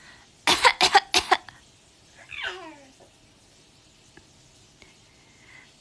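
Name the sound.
one-year-old toddler imitating a fake cough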